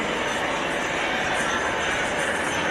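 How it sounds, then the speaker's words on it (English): A loud, steady mechanical roar with a broad rushing hiss fills the air as a military helicopter idles on the ground in a landing zone at an airshow demonstration. "When a helicopter is on the ground in the landing zone, it makes a lot of noise"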